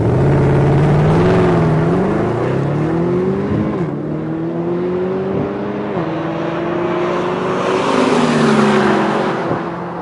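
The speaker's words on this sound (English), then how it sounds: "I took the wheel of the SLS and challenged racer Tommy Kendall for a quick tete-a-tete." Mercedes SLS AMG engine revving and shifting on a race track, a loud continuous roar that rises and falls through gear changes, close and steady throughout with no talking.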